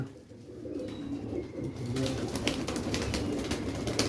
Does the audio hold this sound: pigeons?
yes